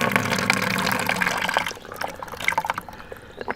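Water from a neti pot streaming out of a nostril during nasal rinsing, a close trickling and dripping splash that runs steadily, then thins into scattered drips and spurts toward the end.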